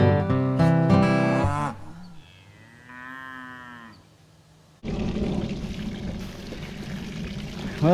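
Calves on a ranch low and moo loudly at first, then hose water pours and splashes steadily over the rim of a full cattle water trough, running on to the end.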